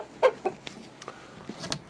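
A black rooster among a few laying hens gives several short clucks at a moderate distance, a couple of sharper calls standing out early, with quiet gaps between.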